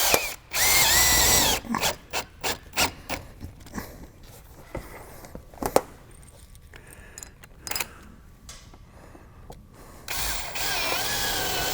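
Power drill bursts driving 1/4-inch drive screws with washers into an ag panel during plumbing installation, a few whirring runs with quiet handling and clatter between them.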